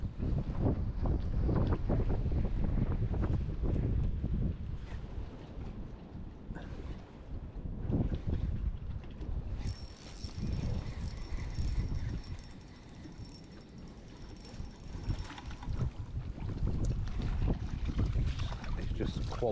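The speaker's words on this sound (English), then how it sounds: "I think just with that extra wind that's blowing through us at the moment, it's just got a bit painful, this wind." Wind gusts across a river while perch fishing from a boat, a steady broadband rush buffeting the microphone with heavy low rumble throughout, and a faint high tone in the middle stretch.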